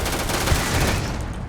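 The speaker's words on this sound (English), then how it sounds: "Oh, that's a turret." Rapid automatic fire from a turret in a video game, a loud, dense burst of overlapping shots filling the whole moment without pause.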